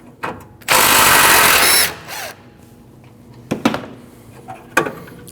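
A power tool whirs loudly for about a second removing an 8 millimeter bolt from a 2012-2021 Nissan NV2500, followed by quiet clinks and small clunks of metal parts being handled.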